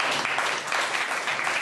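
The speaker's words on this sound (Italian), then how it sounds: "un applauso" Audience applause at a 2012 Agorà MCF Toscana gathering in Italy, a dense, steady wash of many hands clapping together at close range, loud and continuous with no voices standing out.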